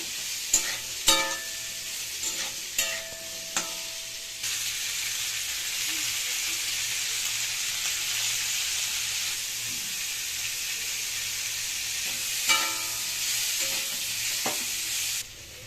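Amla pieces sizzling in hot oil with a spice tempering for pickle, a steady hiss running throughout, with a few clinks of a utensil against the pan near the start and again later.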